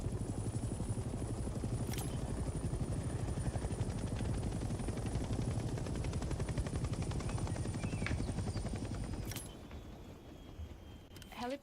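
A helicopter in the Vietnam War game Hell Let Loose: Vietnam thrums with a steady, close rotor pulse and a high whine, loud throughout and then easing off near the end.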